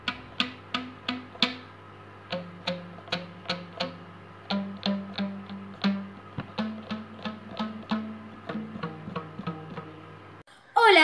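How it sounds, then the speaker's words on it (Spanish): A homemade string instrument plucked in a steady run of sharp, bright notes with short decays, a low steady hum underneath, ending abruptly with a louder burst. "Yo hice este instrumento de cuerda y suena así."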